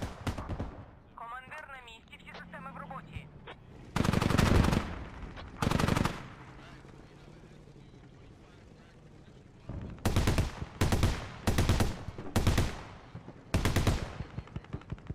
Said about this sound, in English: Lots of shooting coming in here.